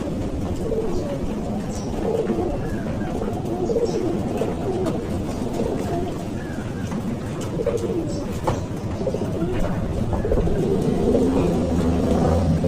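Pigeons coo steadily in a loft during strong wind, soft repeated low calls layered under constant rushing noise, with occasional flutters and distant traffic.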